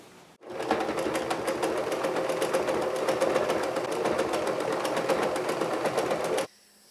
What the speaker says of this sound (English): I'm gonna sew along here and I'm going to secure the straps right there